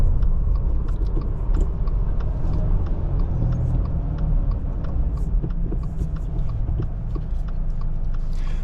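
A 2023 Subaru Crosstrek with a six-speed manual gearbox drives through the gears, heard from inside as a steady low engine and road rumble with faint ticks and clicks.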